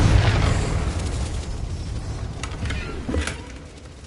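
In the video game Hogwarts Legacy, the Confringo explosion spell goes off as a loud, boomy blast that rumbles and fades, and a couple of sharper pops and crackles follow it.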